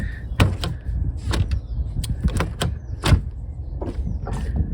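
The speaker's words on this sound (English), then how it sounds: "Soft closed doors." A soft-close car door pulls itself shut with a series of sharp mechanical clicks and thuds, close by and with no talking.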